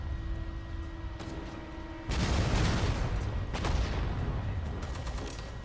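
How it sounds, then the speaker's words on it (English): Grenades go off in the World War II strategy game Sudden Strike 4, a sudden loud burst of blasts and rattling gunfire breaking over a low steady hum and continuing as dense crackling battle noise. "Let's throw a few grenades on this guy."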